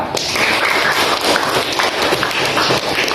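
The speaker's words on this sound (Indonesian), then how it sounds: "Tepuk tangan Mbak Mudrika" Students clap for a classmate in a school classroom lesson, a dense, fairly loud patter of many hands that runs steadily throughout with no clear talk.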